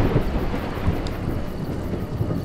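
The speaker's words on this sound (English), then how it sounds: "Mud, thunder and lightning are terrible opponents." Thunder rumbles in the video game A Juggler's Tale, a loud, dense low roll with rain-like hiss throughout, heard alone with no voices.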